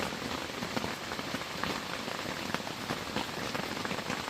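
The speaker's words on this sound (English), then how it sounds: "Rain's here, pouring down rain." Heavy rain pours steadily onto a tarp-covered tent at a stormy forest campsite, a dense continuous hiss and patter of drops close by, with no voices.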